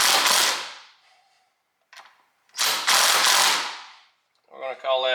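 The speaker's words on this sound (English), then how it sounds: "So we're just going to take our impact and" A handheld impact wrench driving the nut on a steering wheel quick-release hub in a Lexus IS300, two loud close bursts of rattling hammering with a short pause between and a faint clink in the gap.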